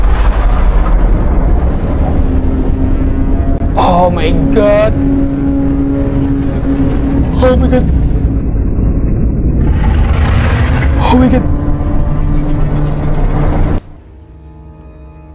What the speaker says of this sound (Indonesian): Dan jelas itu suara monster.